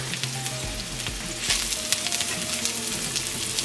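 Mushroom pieces fry in butter in a pan over medium-low heat, a steady close sizzle with brief louder crackles and faint utensil sounds, no voices.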